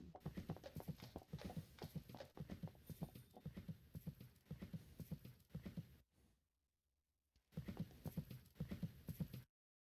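An Arabian horse moves during a class at a horse show, its hooves making a close, rhythmic clip-clop. The hoofbeats break off briefly for a quiet gap near the end, then resume.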